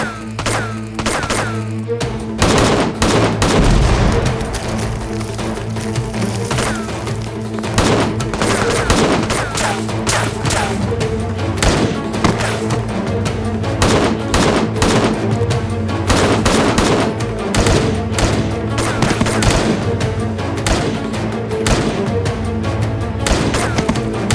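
Sustained heavy gunfire in a dubbed action drama, rapid automatic bursts and loud shots overlapping continuously for the full length, with shouted voices mixed in among the volleys.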